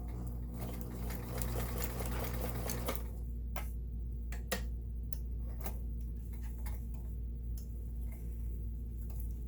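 Kenmore 1802 sewing machine running a straight stitch, a steady close mechanical whir with rapid needle ticking, continuous at moderate level with a slight change in tone partway through.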